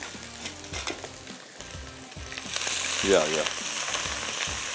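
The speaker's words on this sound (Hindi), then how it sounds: "ये इसमें हमने लहसुन, अदरक और इसको थोड़ा सा पहले करेंगे फ्राई" Garlic and ginger fry in a hot pan, a steady close sizzle that swells louder and brighter halfway through, with scattered clinks of a spoon against the pan and a brief murmur of voice.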